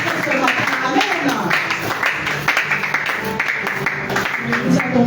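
A church congregation acclaiming the name of Jesus during a French-language sermon, a loud sustained mix of cheering voices and clapping that fills the room continuously.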